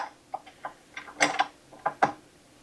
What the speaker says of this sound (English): we're going to go ahead and put in the dough hook